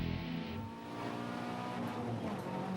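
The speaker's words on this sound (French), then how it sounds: "à bord de la voiture de Éric Courchaine" Onboard a rally car at speed on the Sanair track during the 2006 Rallye du Québec, the engine drones loud and steady with shifting harmonic tones as it accelerates, road and tire noise filling in beneath.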